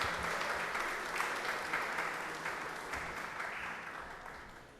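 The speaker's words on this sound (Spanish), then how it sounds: "nosotros saludamos a ellos con un fuerte aplauso para nuestros" At a civic event held by an electoral board, an audience claps in a broad, even round of applause that slowly fades over several seconds, with no voice over it.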